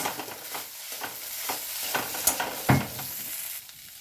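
Fish finger filling being stirred with a little tomato sauce in a pan, soft sizzling under several spatula scrapes and a couple of sharper knocks, close and brief.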